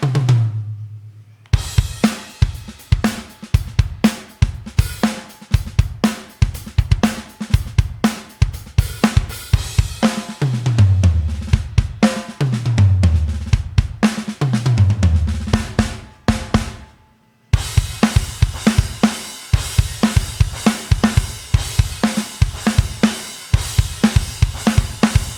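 A programmed drum performance from the Steven Slate Drums SSD5 sample library plays through intro, verse and break sections, with punchy kicks, snares and crashing cymbals in a steady rock groove; loud, close and free of talk.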